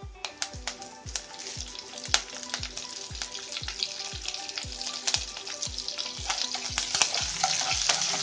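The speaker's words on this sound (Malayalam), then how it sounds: "ഇനി ഇതിനകത്തേക്ക് ഞാൻ കറിവേപ്പില ഇട്ട് കൊടുക്കുന്നു." Curry leaves crackle and spit in hot oil for a lemon pickle, loud close popping bursts over a dense sizzle, with a regular rhythmic scraping of stirring underneath.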